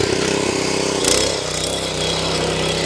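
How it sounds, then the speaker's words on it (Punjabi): A mini tractor fitted with a rotavator runs just after a rope start, its small engine chugging loudly and steadily close by with a brief surge in the middle. "ਛੋਟਾ ਟਰੈਕਟਰ ਹੀ ਉਹ ਹੈ ਜਿਹੜਾ ਪਹਿਲੀ ਰੱਸੀ 'ਚ ਸਟਾਰਟ ਹੋ ਗਿਆ ਵਾ ਬਾਈ"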